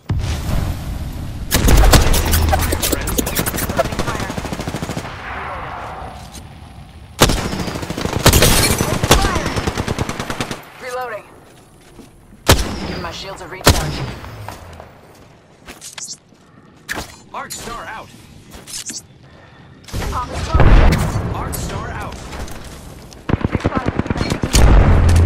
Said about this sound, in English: The enemy is shooting at me.